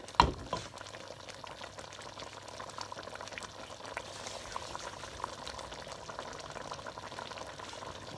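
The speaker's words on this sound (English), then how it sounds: "I'm going to add the potatoes now. And then I'll cook this until the potatoes are soft." Tomato stew with added potatoes cooking in a pot, heard as a soft, steady bubbling simmer after an initial knock, fairly faint and continuous with no talking.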